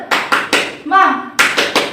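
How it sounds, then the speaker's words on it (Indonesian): A class of pupils performs a rhythmic tepuk semangat spirit clap: crisp group claps in a quick pattern, a short chanted voice break in the middle, then more claps, close and loud. "Tepuk semangat."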